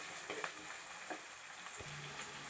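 Onions sauté in a pan for a fish kuzhambu, a soft, steady sizzle with faint stirring scrapes and taps, quiet and close.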